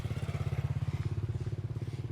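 A motorcycle engine putters steadily nearby, a low rapid throbbing that holds for a couple of seconds and eases slightly toward the end.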